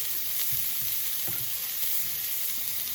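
Shallots frying in a pan over medium heat for a chicken curry, a dense, even sizzle close up with a couple of soft stirring bumps and no voices.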